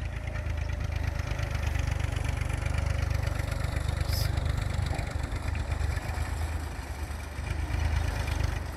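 An IMT 558 tractor engine idles in a steady low rumble, continuous and fairly quiet, with no talking.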